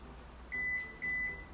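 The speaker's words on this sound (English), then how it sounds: "Once it beep for twice, it means that it's already saved the height of this one" A 2022 Kia Carnival's tailgate gives two clear electronic beeps, each about a quarter second long, over a low steady background hum, confirming its height setting is saved.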